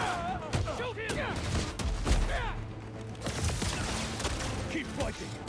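Enemy gunfire crackles in short bursts amid chaotic combat in Marvel's Spider-Man 2, mixed with whooshing and mechanical effects and shouted voices over a low rumble.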